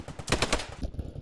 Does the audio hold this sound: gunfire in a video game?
yes